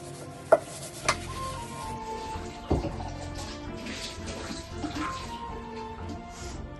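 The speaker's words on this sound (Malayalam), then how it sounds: "അപ്പം കലം കഴുകാം." A cooking pot is washed by hand in a home kitchen, with a few sharp clanks and knocks of metal early on, then soft scrubbing and splashing of water, close and fairly quiet.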